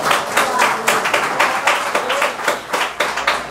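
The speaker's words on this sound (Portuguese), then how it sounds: "dê uma salva de palmas ao Senhor" A church congregation claps together in sustained applause, loud and close, with dense overlapping hand claps and no pause across the whole stretch.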